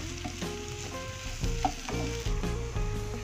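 Tempe frying in a pan, with a steady sizzle carrying on under several clanks and stirring knocks for the whole few seconds, fairly close and with no voices.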